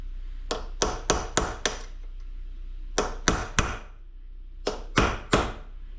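Hammer taps on a 1982 Dodge Ramcharger power steering gearbox clamped in a vise: three sharp metallic strikes in quick succession, a pause, another quick triple, then a final group of three, close and ringing.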